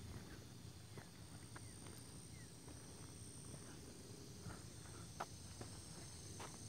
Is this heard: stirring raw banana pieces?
no